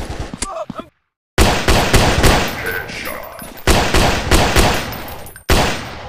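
Bursts of automatic rifle fire from a mobile military first-person shooter game crackle in loud, rapid volleys broken by brief pauses, with occasional game voice callouts between bursts.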